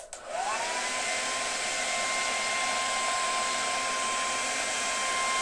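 A hair dryer blows hot air onto a CD case label, a steady close whoosh with a faint whine that starts with a click and runs unbroken throughout.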